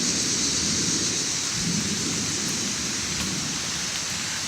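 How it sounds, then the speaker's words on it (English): A North Carolina thunderstorm roars steadily, with dense rain and a low rumbling wash of thunder filling the whole stretch, loud and continuous with no voices. "So another North Carolina storm is rolling through."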